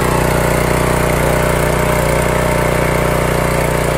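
A gasoline-engine pressure washer runs steadily just after being pull-started, a loud, continuous mechanical drone with a constant hum and no pauses or voices.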